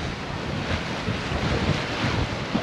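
Rough sea churning at the mouth of the gulf at sunrise, heard from a sailboat on a cruise near Le Crouesty: a steady broadband wash of waves and surf mixed with wind buffeting the microphone, continuous and fairly loud.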